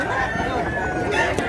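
At a busy chicken market in Mantalungon, Cebu, roosters and fowl keep up a steady crowing and clucking din, with people talking in the background throughout the short stretch.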